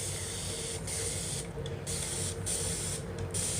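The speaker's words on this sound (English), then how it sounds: "So let's go ahead and spray. It's a nice mist." A spray bottle misting warm water onto type 4 natural hair, several short, close hissing bursts of spray in quick succession.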